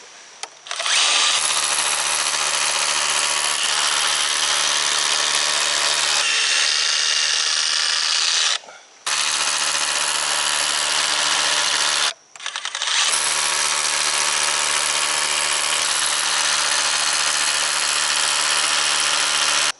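Power tool driving concrete anchors with number 12 screws while building a root cellar, a loud whining drill run in three long bursts separated by brief pauses, close by and alone.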